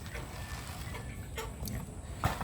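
Chickens molting and being fed, clucking softly and intermittently at close range over a low background murmur, with one brief louder cluck near the end.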